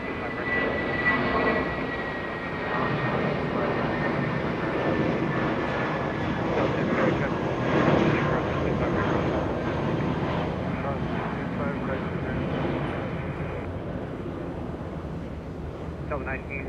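An American Airlines Airbus A320, 20 years old, takes off at Los Angeles International Airport, a broad steady jet engine roar swelling and then slowly fading, with commentary spoken over it.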